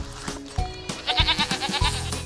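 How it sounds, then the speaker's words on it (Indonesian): A goat bleats nearby in a short burst of quavering, wavering calls, with some thumps and background noise around it. "Lah iku rek wedhuse rek."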